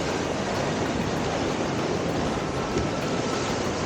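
River rapids surging against a large raft in the canyon at the Gates of Lodore, a dense continuous roar of rushing water that stays loud and close throughout with no voices.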